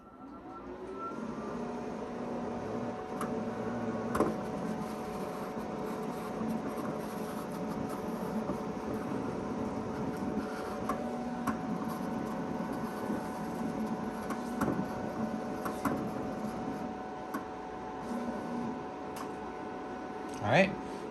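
A vinyl cutting machine works through a coral vinyl decal, giving a quiet, steady whirring of motors with scattered soft clicks and ticks and a couple of sharper knocks near the end.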